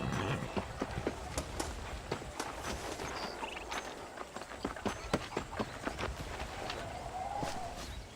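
Horse hooves clip-clop at a walk along a path in the Western game Red Dead Redemption, a steady stream of soft, close hoof strikes over outdoor ambience with faint birds.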